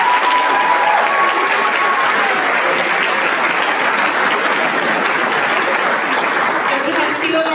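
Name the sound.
audience applause for scholarship donors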